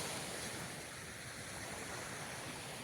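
Black Sea waves wash onto the shore near Balchik in a faint, steady surf hiss, blended with light wind and no talking.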